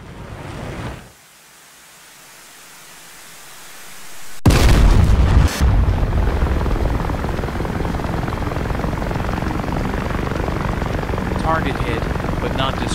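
A guided missile strikes its target in DCS World from an AV-8B Harrier: quiet engine drone, then a sudden loud boom at about four seconds that settles into a sustained heavy roar of wind and engine noise.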